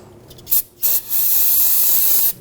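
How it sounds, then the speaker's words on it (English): An aerosol can of brake parts cleaner sprays onto a Nissan Rogue's rear brake caliper area, first in two short hissing bursts and then in one longer steady spray, loud and close. "Just use a little brake parts cleaner."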